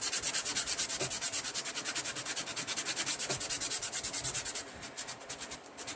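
Rapid, rhythmic back-and-forth scraping as a surface is roughed up with sandpaper for a handmade album, close and steady strokes that lighten and slow near the end, with no talk.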